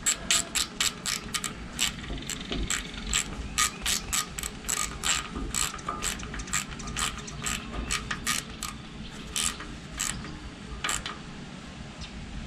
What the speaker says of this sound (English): I'm gonna use my ratchet, get it over the top of it.